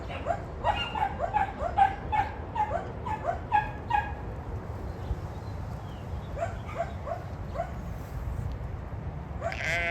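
A very pregnant dog on a farm with sheep, goats and a pig nearby; a series of rapid high whimpers, yips and bleat-like calls comes close in the first half, then fainter calls follow.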